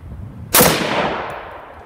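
One loud rifle shot from a custom infantry automatic weapon style upper firing an M855 62 grain full metal jacket round cracks sharply outdoors, followed by a long decaying echo.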